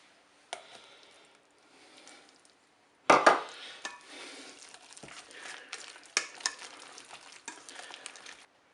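Bacon and sun-dried tomatoes dropped into a hot Cookeo pot, bursting into a sharp sizzle after a quiet start, then continuing to crackle with a few scraping stirs and clinks, close by and without speech.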